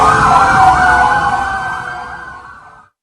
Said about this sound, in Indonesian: Belum diketahui tujuan dari beberapa kendaraan taktis berada di depan gerbang kantor Korps Adiaksa sambil menyalakan sirine maupun rotator